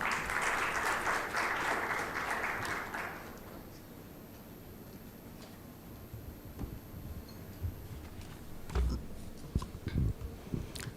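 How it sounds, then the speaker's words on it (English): An audience at a budget analysis summit applauds loudly for about three seconds, then the clapping fades. Scattered knocks and shuffling noises follow in a quieter room. "let's have a warm round of applause"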